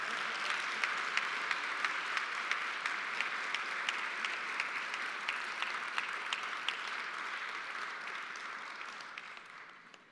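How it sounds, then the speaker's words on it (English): A banquet audience applauds firefighters receiving medals at a fire department awards and retirement banquet, a steady dense wash of many hands clapping that runs unbroken for about ten seconds before tapering slightly at the end. "so keep clapping"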